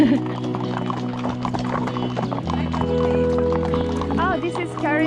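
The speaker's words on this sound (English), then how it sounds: "this is carriage for horses" Horses' hooves clip-clop steadily as a team pulls a horse-drawn carriage, with a whinny and people talking over the continuous street noise.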